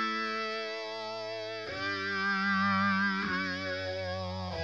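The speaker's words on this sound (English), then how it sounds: "Phasers." Guitar run through a phaser effects pedal, sustained distorted chords with a slow sweeping, swirling tone, changing notes twice, loud and alone without any talk.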